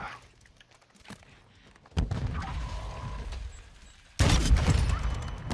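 Sniper rifle fire in a Call of Duty match, with a few faint distant shots and thuds, then two abrupt loud blasts at about two and four seconds.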